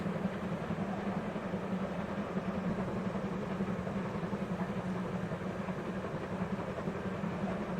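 A train runs steadily in the game If on a Winter's Night, Four Travelers, with a continuous deep rumbling drone and low hum that stays even and moderately loud throughout, with no talk.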